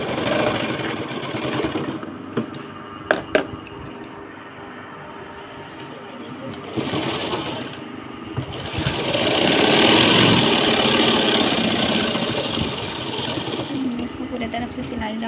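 A sewing machine stitches around the edges of a large handbag, a continuous mechanical whir and rattle running close and steady, with a couple of sharp clicks early on.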